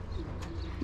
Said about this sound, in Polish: Super, pierwsze gołębie są.